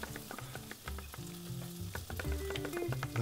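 Food sizzles and fries steadily on a hot plate in the Chef Life cooking game, a continuous crackle with light clattering of kitchen utensils over about three seconds, no talk.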